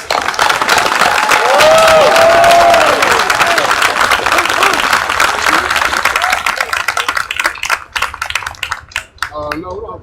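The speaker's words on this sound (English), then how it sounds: "give a warm round of applause for Brother Byron Williams" Loud, sustained applause fills a hall at a labor union gathering in Huntsville for a machinists' council president, dense clapping that thins and fades toward the end, with voices and a few whoops mixed in.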